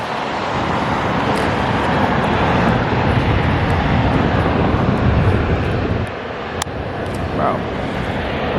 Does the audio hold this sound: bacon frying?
no